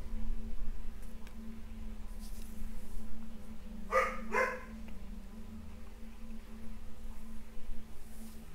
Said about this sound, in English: Apologies in advance for my dog.